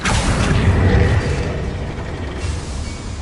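A Confringo blasting spell from the game Hogwarts Legacy goes off as a single loud, booming explosion with a sharp onset, then a rumbling tail that slowly fades.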